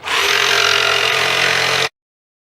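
Jigsaw fitted with a Bosch T141HM1 blade cutting fiber cement board, a loud, close, steady buzzing rasp lasting under two seconds before cutting off abruptly into silence.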